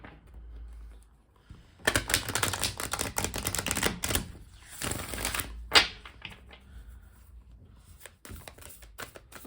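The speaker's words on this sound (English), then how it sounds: "I'll do one big shuffle and then I'll go ahead and cut the cards here." Rapid riffling bursts of cards being shuffled, followed by a few sharp slaps and taps as the deck is cut, close up with no talking.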